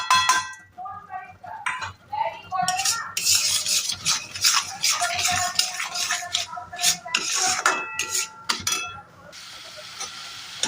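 Spices tipped one by one into a pan for a vegetarian jackfruit kofta curry, with a spoon clinking and scraping against the metal as they are stirred, close and busy, with a faint sizzle underneath.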